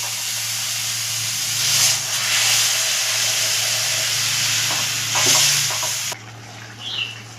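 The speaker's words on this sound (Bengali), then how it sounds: "আর ঝোলটাও ফুটে গেছে" Egg curry gravy of well-fried spice paste with a little water simmers in a pan, giving a steady hiss and bubbling with a couple of brief louder surges, then quieter near the end.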